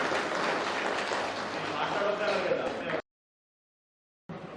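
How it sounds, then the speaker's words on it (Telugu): An audience at a devotional Sai Baba talk in Huzurnagar claps in steady, dense applause for about three seconds, then stops abruptly into silence before clapping briefly resumes. "చప్పట్లు కొట్టాలి మీరు."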